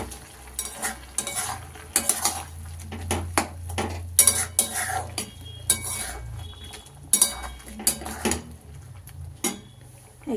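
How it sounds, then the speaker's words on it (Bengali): Chilli powder stirred into bottle gourd greens in a pan: repeated scraping and clinking of a metal spoon against the pan in uneven bursts over a faint, low sizzle. "দিয়ে আমি একটু নেড়ে দেবো।"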